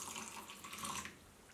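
Half a glass of water poured into a semolina batter for appe, a steady close splashing trickle that fades out toward the end, with no talking.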